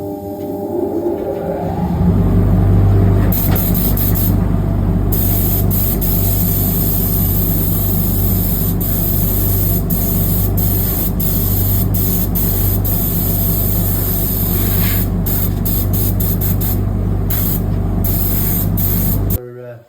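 A spray gun applies a ceramic coating to a car exhaust end flange in a spray booth, giving a loud, steady hiss that runs close for most of the time, broken by brief trigger pauses over a low mechanical hum.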